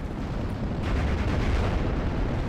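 Two 500-kilogram bombs exploding in the WWII strategy game Steel Division: Normandy 44, heard as a dull, rumbling low boom that swells and lingers for a couple of seconds at moderate distance, with no talk.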